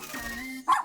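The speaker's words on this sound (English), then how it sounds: "Come here, robot dog." A cartoon robot dog gives a short tonal whine followed by one bright, loud bark, close and clear with no other voices.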